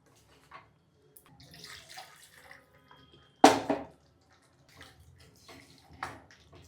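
Water is poured into a pan of chayote curry in a home kitchen, a faint splash and gurgle that peaks in one short louder burst amid quiet stirring clinks.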